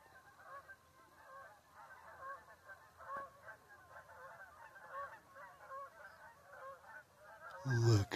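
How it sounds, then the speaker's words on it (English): A flock of geese flies over John Martin Reservoir at sunrise, giving faint, distant honks that repeat in an irregular chorus. Louder handling noise comes in at the very end. "Look at that flock coming over on the sunrise."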